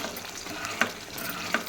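Thick tomato chutney cooking in oil in a pan, stirred now and then: a soft continuous sizzle with two brief scraping clicks of the spoon against the pan, close and fairly quiet.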